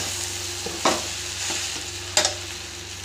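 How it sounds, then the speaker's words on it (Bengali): Chow mein fries in a pan with a steady close sizzle, broken by two sharp scraping stirs of a utensil against the pan; no voices. "দিয়ে আর 5 মিনিট ভেজে দেবো"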